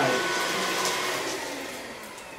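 A cordless stick vacuum cleaner runs with a loud, steady motor whine and airflow rush, fading slightly toward the end.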